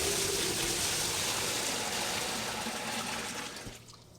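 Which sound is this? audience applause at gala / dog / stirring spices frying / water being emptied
water being emptied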